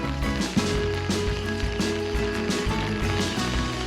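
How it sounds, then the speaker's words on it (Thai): Rain falls steadily on a tent at a waterlogged campsite during an all-night downpour. It makes a dense, continuous patter that stays constant throughout, with no voices. "ดูท่าทางแล้วฝนยังจะตกอีกสักพักนะ"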